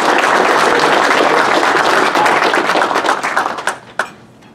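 Audience at a design-build talk applauds a speaker being welcomed, a dense, loud clapping that holds steady for several seconds before thinning to a few scattered final claps.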